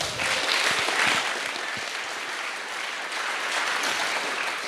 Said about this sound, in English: can I get a big round of applause for that?